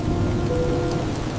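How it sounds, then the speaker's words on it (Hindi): Heavy rain pours steadily at night in a Hindi drama scene, a dense, loud, continuous roar with low rumbling undertones and no voices. "बारिश अभी भी नहीं रुकी।"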